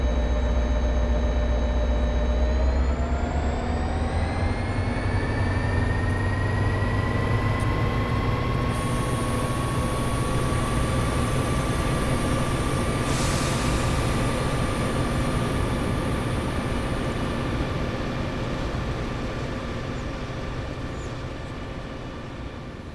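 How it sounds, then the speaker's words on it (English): A Caltrain diesel locomotive in Train Sim World 2020 throttles up to run 8, its engine drone rising in pitch into a loud, steady whine that holds and then slowly fades, with no talk. "listen to the engine when we throw this thing into run 8. It sounds so awesome"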